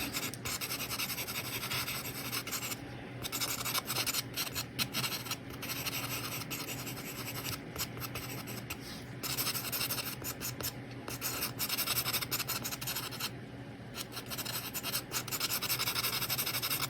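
Coloured charcoal pastel rubs lightly across paper to blend a fur drawing, a steady close scratchy hiss with faint stroke-by-stroke rhythm throughout.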